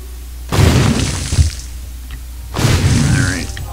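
Two booming bomb blasts in The Binding of Isaac, each a loud burst with a crumbling, shattering tail, spaced about two seconds apart.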